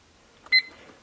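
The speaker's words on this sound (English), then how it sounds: "I'm starting a timer." A digital timer gives a single short, clear electronic beep as it starts, crisp and close in a quiet room with faint clicks around it.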